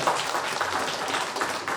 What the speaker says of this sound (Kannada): ಜೋರಾಗಿ ಚಪ್ಪಾಳೆ ಜೋರಾಗಿ